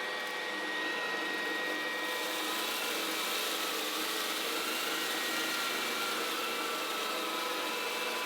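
Levoit LVAC 200 cordless vacuum on its lowest setting sucking cat litter off carpet, a steady close whirring motor hum with faint rattling of grit, alone and unbroken throughout.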